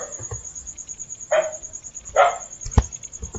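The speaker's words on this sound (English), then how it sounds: "why is this dog barking?" A dog barks twice in the background of a quiet room, two short distinct woofs about a second apart, followed by a sharp click, over a steady high electronic whine.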